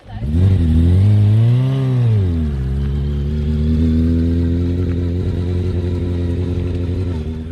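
A Yamaha YZF R125 motorcycle engine revs up and then settles into a steady drone as it pulls away, loud and close throughout.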